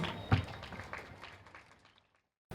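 An audience gives a round of applause for a school team, a short scatter of claps that peaks near the start and fades to silence, fairly faint.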